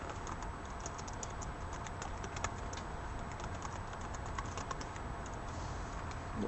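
A computer keyboard is tapped in quick, faint, irregular clicks as a clue word is entered for a SMART Board anagram activity, steady typing over soft background hiss with no talk.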